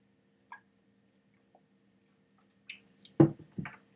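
Water splashes and drips into a glass of Canadian single barrel whisky in a few short bursts near the end, with faint clinks before, close and quiet in an otherwise silent room.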